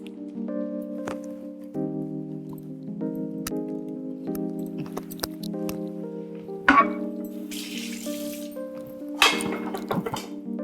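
Ground coconut paste is poured into a curry pan on the stove in a home kitchen, giving two brief splashy, sizzling bursts over a steady tonal hum, with soft taps and clinks in between.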